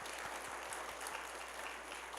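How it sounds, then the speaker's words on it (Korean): Church congregation claps to welcome a bereaved family during a worship service, a soft, fairly distant wash of applause with steady low hum beneath it. "우리 박수로 환영하겠습니다"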